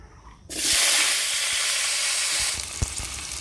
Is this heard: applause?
no